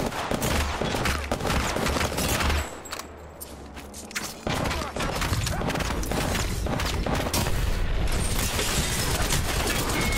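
Rapid automatic gunfire from a solos battle royale video game fills the scene, dense overlapping shots and bursts with a short lull in the middle, loud and continuous.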